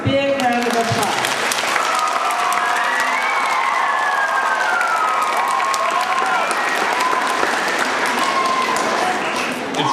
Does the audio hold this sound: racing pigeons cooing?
no